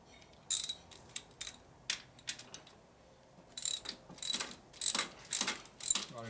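A ratchet unscrewing a motor mount bolt on a 1958 Harley panhead rebuild, with quiet clusters of sharp clicking pawl strokes separated by pauses, then a denser run of louder ticks near the end.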